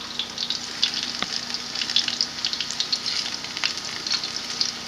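Burger buns frying in a pan and being flipped: a bright continuous sizzle with crackling pops and a brief knock as the buns turn, close and alone.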